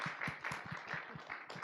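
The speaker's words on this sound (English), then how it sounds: "Let's give another round of applause for Reda Taleb." Quiet, scattered hand clapping from a small audience, faint and brief, with no voices over it.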